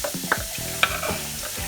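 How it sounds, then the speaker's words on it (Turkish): Onions stirred into melted butter in a pan, giving a close sizzle with a few sharp scraping stir clicks, no voices. "Eriyen tereyağımızın içerisine soğanımızı ilave ediyoruz."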